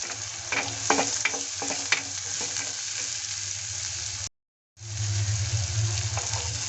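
Onions frying in a pan with salt and turmeric give off a continuous hissing sizzle with crackling stirs early on. A brief silent gap interrupts it before the steady frying resumes.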